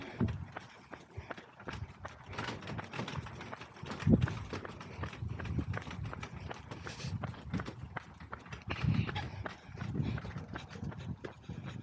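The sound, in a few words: horse hooves clip-clopping on trail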